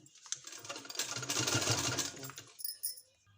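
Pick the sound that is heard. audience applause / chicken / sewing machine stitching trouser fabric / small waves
sewing machine stitching trouser fabric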